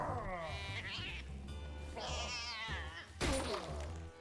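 A cat in the horror video game Don't Die, Minerva! meows several times in drawn-out, wavering cries, loud and close, over a low game background hum.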